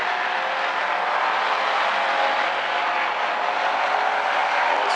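Hobby stock race cars roar around South Sound Speedway in a continuous, dense engine drone, heard from a distance as a steady wash of sound without clear passes or talk.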